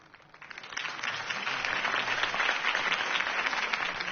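A crowd claps and cheers in a sustained burst of applause, rising quickly after a quieter start and holding steady throughout.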